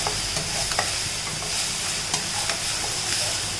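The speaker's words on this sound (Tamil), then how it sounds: "இஞ்சி பூண்டு பேஸ்ட் போட்டு நல்லா வதக்கிக்கோங்க." Ginger garlic paste sautéing in a hot pan for quail gravy, giving a steady loud sizzle with a few light spoon scrapes and clicks against the pan, close up and with no voices.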